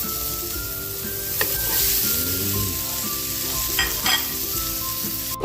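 Pork sizzles steadily in a hot pan while being sautéed with onion for a Filipino pork dinuguan, a constant close crackle with a few stirring clatters and scrapes throughout.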